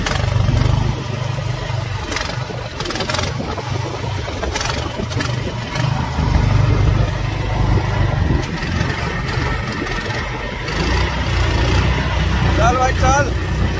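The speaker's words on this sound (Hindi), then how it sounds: "ये तो नाव फिर से चालू हो गई।" An outboard boat engine on Loktak Lake in Manipur sputters back to life after debris clogged it, settling into a steady motor chug, with people talking throughout.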